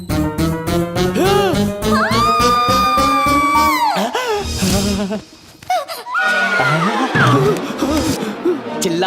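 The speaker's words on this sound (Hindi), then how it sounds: "चिल्लाने की आवाज सुनी?" Screaming from a Hindi-dubbed South Indian action film scene: loud, high, drawn-out wailing cries that rise and waver, breaking off midway and then returning in shorter, more broken bursts.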